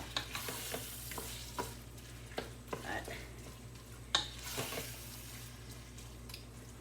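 A pasta mixture browning in a frying pan is stirred, with soft sizzling beneath repeated scrapes and taps of a utensil against the pan, close and fairly quiet.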